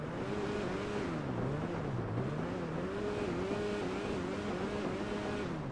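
Faint, steady engine drone of the BF Weevil compact car in GTA 5 Online, with slow wavering rises and falls in pitch as it revs and cruises.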